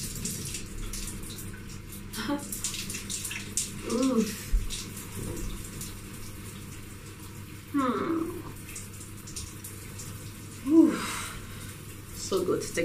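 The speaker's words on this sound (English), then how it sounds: "Let me take my shower." Shower water running steadily in a home bathroom, a soft continuous spray with occasional louder splashes, and someone talking over it at intervals.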